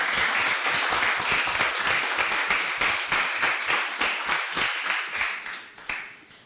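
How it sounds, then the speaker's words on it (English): Audience bursts into a round of applause, a mix of many hands clapping in a lively rhythm that rises briefly then tapers off toward the end, with no talking. "A round of applause."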